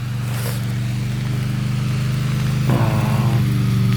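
A cordless electric grass trimmer cuts through grass about 50 cm tall, giving a steady, loud motor whine that continues throughout, with a brief surge in pitch and load near the end as the line bites into the growth.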